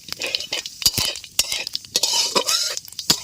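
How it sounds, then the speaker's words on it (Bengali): Bay leaf and whole cumin seeds frying in hot oil, with a steady soft sizzle broken by sharp clinks and scrapes of a utensil stirring against the pan, close and fairly loud. "তেজপাতা একটু গোটা জিরে দিয়ে দিচ্ছি জিরেটা হালকা ভেজে নেব"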